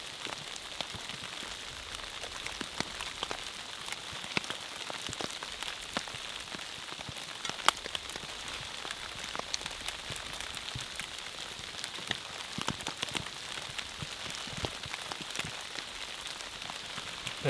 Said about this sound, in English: Cold, wet, hail,